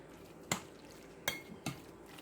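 Ingredients being mixed in a bowl in a home kitchen: three sharp utensil clinks against the bowl, spaced irregularly over a quiet background.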